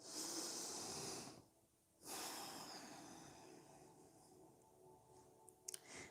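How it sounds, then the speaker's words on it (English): Slow breathing in and out through the nose during a yoga class, soft airy inhales and exhales close to the mic, a brief pause between breaths, quiet and without talking. "Inhale and exhale through your nose."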